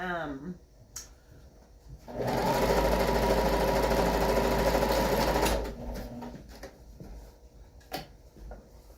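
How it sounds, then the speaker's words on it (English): A home sewing machine stitches fabric pieces together for a budget DIY fabric mat, running loud and steady for about three and a half seconds, with quieter handling clicks and light movement before and after. "I'm going to go ahead and time lapse stitching the fabric pieces together."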